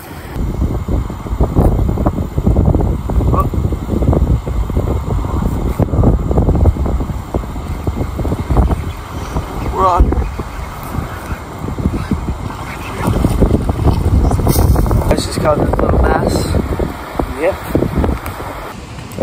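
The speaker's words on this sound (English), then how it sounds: "we're probably dealing with 30 mile per hour winds out here, so really hard to record" Heavy wind of about 30 miles per hour buffets the microphone with constant low rumbling gusts while someone talks throughout on a fishing trip, the roar rising and falling.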